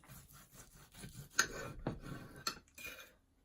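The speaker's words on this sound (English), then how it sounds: "I'll do a few slices" A knife works through a roast turkey breast at close range, with soft rubbing strokes, a couple of sharp ticks and faint scrapes against a board or plate, all quiet and with no talking.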